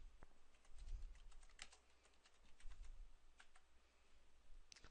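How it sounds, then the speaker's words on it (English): Keys on a computer keyboard are typed in a quick, irregular run of soft clicks, close and fairly quiet, with no voices over them. "So here I'll type in what I'm looking for."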